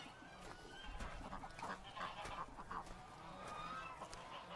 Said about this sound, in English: let's go see the hospital ducks